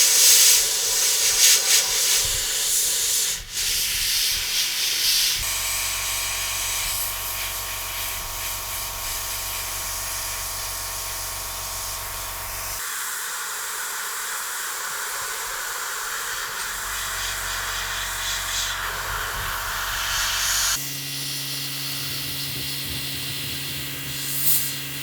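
Airbrush spraying paint during freehand work around the wheel area of a Special Hobby 1/32 Tempest Mk V model aircraft: a steady close hiss of air runs throughout, its tone shifting in several sections, with no talk.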